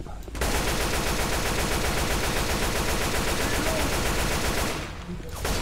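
Sustained rapid gunfire from a zombie shooter video game, a dense automatic burst that runs loud and unbroken for several seconds before cutting off abruptly.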